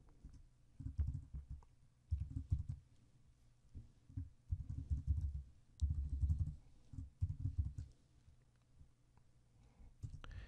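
Typing on a computer keyboard during a Python programming lesson, soft close clusters of muffled key taps in irregular bursts with short pauses between them, no voice over it.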